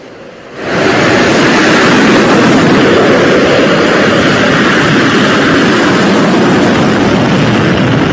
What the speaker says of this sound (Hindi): और कुछ फाइटर्स ने टेक ऑफ किया।